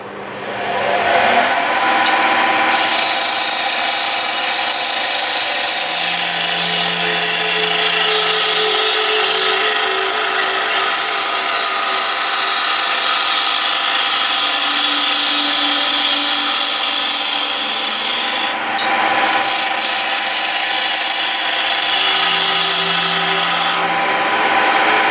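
A wood lathe spins a cherry wood blank at 1500 rpm for a piston whistle, giving a loud, continuous whirring hum with a scraping cutting tone that briefly drops and resumes.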